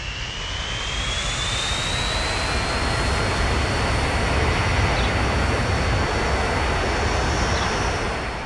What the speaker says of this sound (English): Airplanes have various sound effects which are mixed together depending on a couple of factors like the speed and the power output to produce sound effects for very typical situations like the takeoff